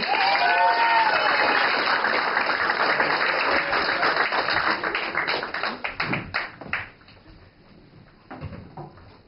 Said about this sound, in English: Please give a round of applause for David Salnave, everybody.